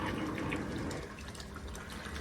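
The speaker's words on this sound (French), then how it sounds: "Oui, j'ai vidangé les eaux grises ici." Grey shower water drains from a camper van onto the ground, a steady close pouring and splashing that stays loud throughout and eases slightly after the first second.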